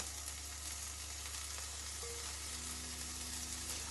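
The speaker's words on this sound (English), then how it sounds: "my griddle is nice and hot" Prawns sizzle steadily on a hot griddle, a continuous close hiss of frying with a low hum underneath and no talking.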